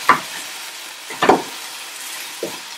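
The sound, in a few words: chicken stir-frying in a wok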